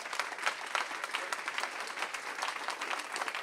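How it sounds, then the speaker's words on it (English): An audience at a leadership talk applauds, a steady wash of many hands clapping that holds at an even level from start to finish, a little distant. "Let's give her a big round of applause."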